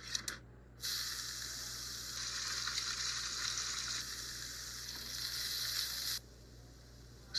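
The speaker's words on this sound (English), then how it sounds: "Don't knock it till you've fried it." Slices of Spam fry in a hot pan, giving a steady bright sizzle that starts abruptly, holds for several seconds and then cuts off sharply.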